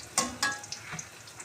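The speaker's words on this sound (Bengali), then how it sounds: "এখন আমি এখানে পেঁয়াজ ভাজতেছি" Onions fry in a pan with a short burst of sizzling and a couple of scraping stirs, close and fairly quiet.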